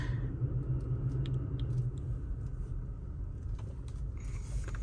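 A tuned Toyota Tacoma truck drives with a constant low rumble from the road and engine, heard from inside the cab, with a few faint clicks and rattles over it.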